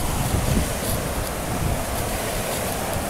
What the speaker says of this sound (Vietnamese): Ồ, sóng nước ghê không các bạn?